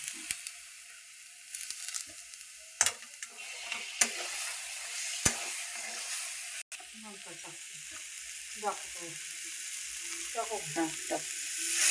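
Washed, roasted dried bombil (Bombay duck) sizzles steadily in a pan of roasted masala, with scattered clicks and scrapes of stirring and a faint voice in the background.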